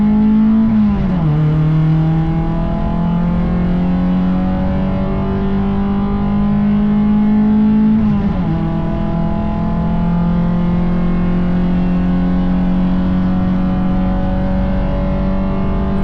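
Race car engines roar and rev continuously from the race start at The Bend circuit, pitch dipping briefly with gear shifts, a sustained close racing drone with no talking.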